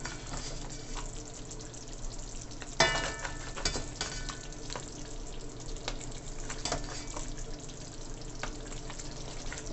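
Jamaican curry king crab legs with coconut milk simmering in a pot, giving a steady low bubbling sizzle with soft clinks and a sharper utensil knock partway through, no voices.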